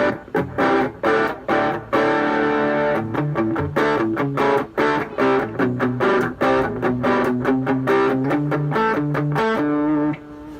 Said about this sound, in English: this is the Boss distortion. So it is a distortion pedal.